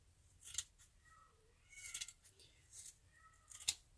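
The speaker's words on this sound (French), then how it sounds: "je vais découper un petit morceau de voile pour faire des carrés" Scissors snipping a small piece of voile fabric into squares, a few short crisp cuts spaced out over quiet background.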